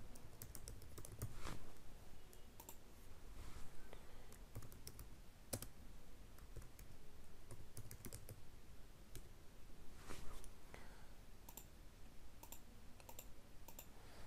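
Fingers type on a computer keyboard in a steady, quiet stream of soft clicks and taps, close by and with no voice over them.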